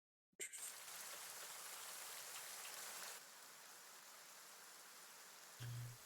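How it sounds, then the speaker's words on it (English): Rain sounds on the roof above an underground space, a sudden steady wash of falling water that starts abruptly, softens partway through, and continues as an even hiss with no talking. "Man, we sure can hear the rain in this underground thing."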